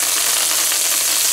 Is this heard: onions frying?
yes